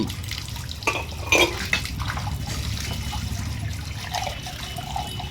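Water is stirred and splashed by hand at close range, a continuous churning wash with a few sharper slaps and sploshes.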